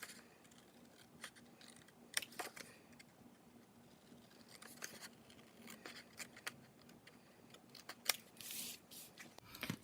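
Scissors snip the pointed ends of a paper scrapbook element in a quiet room, making soft, irregular clicks and crisp cuts spread across the stretch.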